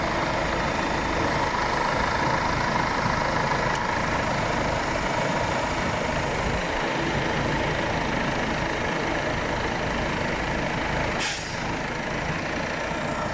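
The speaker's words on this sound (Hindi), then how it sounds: "ये देखें, अब वो ट्रैक्टर को भी चलाएगा।" A driverless tractor under automated system control runs with a steady, loud engine drone close by, holding constant for the whole stretch, with a brief hiss near the end and no talk.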